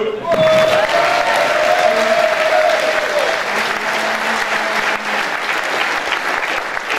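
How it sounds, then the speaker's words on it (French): An audience applauds at a student integration-week closing ceremony as an award winner is called to the stage: a dense, steady wash of clapping that holds for the whole stretch, with faint tonal sounds in the background. "Applaudissez-le."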